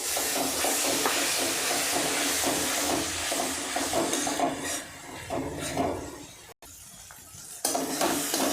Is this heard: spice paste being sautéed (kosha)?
yes